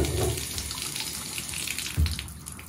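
A leaky bathtub faucet runs water in a steady, close hiss and splash, with a brief louder surge near the end.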